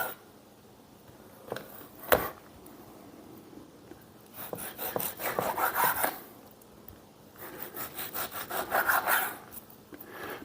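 A knife saws back and forth through a beef chuck roast to trim off chunks of fat, giving close rasping strokes in rhythmic bursts, with a few sharp knocks against the board.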